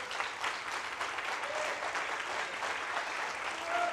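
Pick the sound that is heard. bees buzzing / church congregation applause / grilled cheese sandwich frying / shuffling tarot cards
church congregation applause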